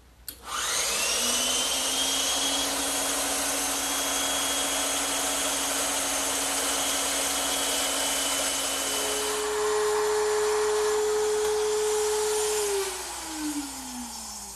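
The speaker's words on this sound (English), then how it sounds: "I'm just using a 1/4-inch rounding over bit in my router table." A router table spinning a 1/4-inch roundover bit to round wood edges: a loud, steady high whine for most of the stretch, shifting pitch midway, then winding down at the end.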